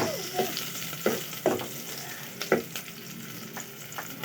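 Adobo frying and sizzling in a pan, with a steady close hiss broken by several sharp clinks and scrapes of stirring at irregular intervals.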